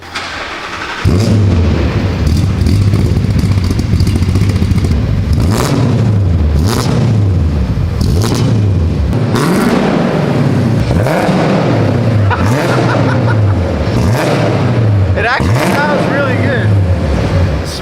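A swapped engine in a rebuilt, once-abandoned Mercedes roars through a MagnaFlow exhaust with DTM tips, revving loudly and repeatedly in close, rising-and-falling bursts after a sudden start, with a voice speaking over it.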